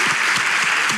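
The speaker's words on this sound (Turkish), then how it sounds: "Kocaman alkış" A short burst of dense applause from a studio audience on a Turkish talk show, loud and continuous throughout.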